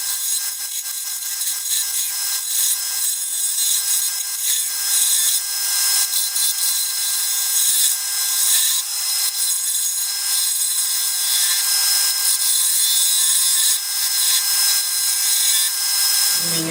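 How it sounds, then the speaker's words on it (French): A cherry wood corkscrew being sanded, probably with a powered sander: a continuous, loud, hissing abrasive roar held close and steady throughout, cutting off abruptly at the end, with no voices. "Avec un petit coup de ponçage pour adoucir là, ça sera pas mal."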